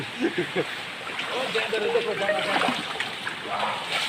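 Water rushes steadily at a Goa waterfall, a continuous broad hiss and splash that sits under people talking nearby throughout.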